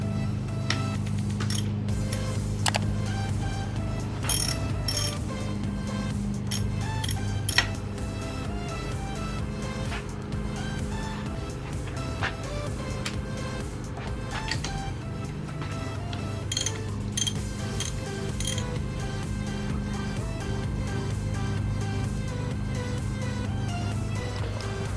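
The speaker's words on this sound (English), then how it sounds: "Good to go to remove the tensioners and the cam cap." Tools and metal engine parts click and clink steadily as tensioners and the cam cap are removed from a KLX351 cylinder head. A low continuous hum runs underneath the close workshop clatter.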